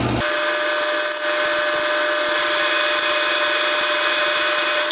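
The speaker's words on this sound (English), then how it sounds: "Slow the lathe down even further, and we're going to be going somewhere around 230 RPM." Metal lathe taking a cut of about thirty thousandths at around 230 RPM: a loud, continuous high-pitched whine and grinding drone with steady tones, close and unbroken.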